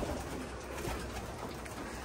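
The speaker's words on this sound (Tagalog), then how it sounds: "Yan, ito yung mga ibon." Racing pigeons coo inside a loft, low soft calls set against a constant broad hiss and murmur. No voices.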